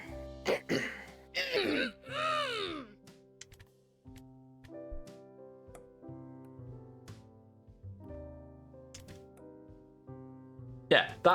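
A few sharp, close coughs ring out from the cough button of a pinball video game, followed by soft sustained electronic tones and a final cough-like burst.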